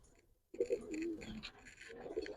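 Silver-coloured Giribaz pigeons give soft, low coos close by in a brief stretch, with faint background rustle.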